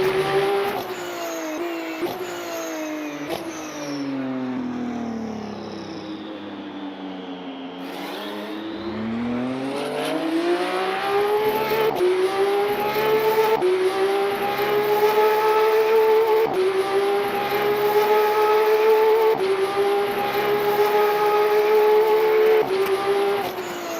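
A race car engine in the sim racing game Le Mans Ultimate at the COTA circuit, heard from outside the car, revs loudly and drops sharply as it brakes, then climbs steadily through the gears and pulls hard.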